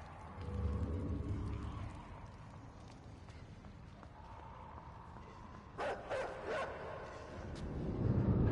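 Dogs barking in the side-scrolling game Inside, a burst of several sharp barks in the middle amid game ambience and low rumble, mid-distance, with someone talking intermittently.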